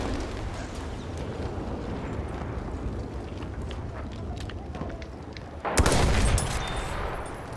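A grenade explodes in a Battlefield 1 match. After a stretch of scattered distant gunfire and battlefield rumble, a single loud, close blast erupts near the end.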